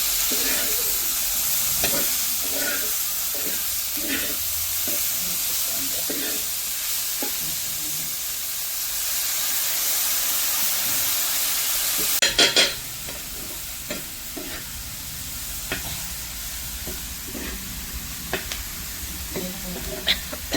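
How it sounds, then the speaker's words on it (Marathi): Chichards, a wild vegetable, sizzle and hiss steadily on a hot griddle over a wood-fired stove while a spatula scrapes and stirs in irregular strokes, a clatter partway through. "चिचारडं परत एकदा थोडं पाणी टाकून धुवून घेणार आहे आणि डायरेक्ट तव्यामध्ये परतणार आहे"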